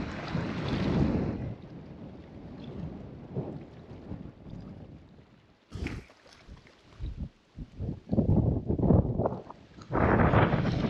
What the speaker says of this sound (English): So we have more than 20 knots of wind today in the lagoon.